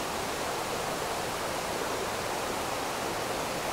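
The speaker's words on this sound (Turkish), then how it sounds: "Aslında en büyük şelale burası." Rushing water at the Harbiye waterfalls in Antakya forms a dense, unbroken roar that fills the whole stretch evenly, with no voices or other sounds breaking through.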